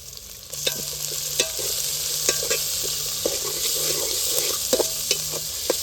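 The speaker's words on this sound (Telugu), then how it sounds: "ఇప్పుడు పొడుగ్గా చీరుకున్న పచ్చిమిరకాయలు కరేపాకు అయితే వేసేద్దాం" Slit green chillies and curry leaves fry with onions in hot oil, a bright continuous sizzle overlaid with repeated close clicks and scrapes of a stirring spoon against the pan.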